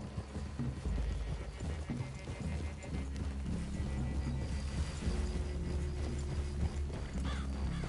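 Horse hooves clip-clop steadily with an occasional whinny, set in a busy outdoor soundscape in the video game Red Dead Redemption 2, at moderate, even loudness.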